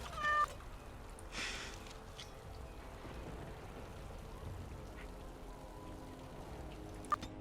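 A cat meows in the Dragon Age Awakening video game, a couple of brief faint calls over a low steady game ambience.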